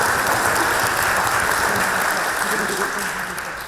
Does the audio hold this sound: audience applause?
yes